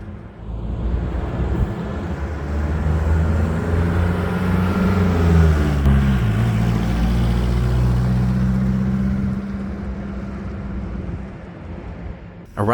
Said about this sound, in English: Around the neighborhood, the truck doesn't seem to mind pulling the trailer.